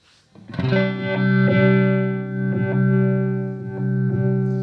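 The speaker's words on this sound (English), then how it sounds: "So you can hear there it's going from a clean signal to a fully phased signal back to a clean signal as well." A held guitar chord through a Chase Bliss Wombtone MKII phaser, its mix shifting between clean and fully phased, giving a slow swelling, swirling wash over softly repeated strums, close and without voices.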